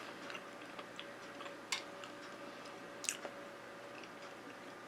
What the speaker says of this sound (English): When you bite into the cobbler, it's soft, doughy, sweet.